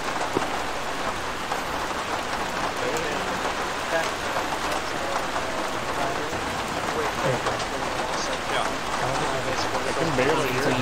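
Heavy rain in the Arma 3 game world, a dense constant hiss of drops pattering on surfaces that holds loud and even throughout, with faint voices mixed in.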